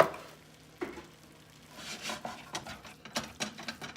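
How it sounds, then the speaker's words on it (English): Browning meat with seasoning stirred quickly in a pan, soft scraping and patter over a low sizzle, with uneven bursts of stirring growing busier toward the end. "And then I'll give it a quick stir."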